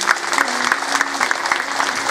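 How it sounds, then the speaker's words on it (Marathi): Audience clapping loudly at a Bhagavat discourse gathering, a dense steady burst of many hands applauding together, close and sustained throughout. "एकदा तुम्ही तुमच्या करता बरं एकदा जोरदार टाळ्या वाजवा."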